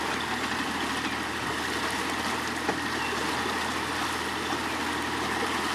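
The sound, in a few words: fishing boat trolling across a lake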